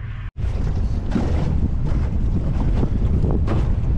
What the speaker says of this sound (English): This is how serious this wind is.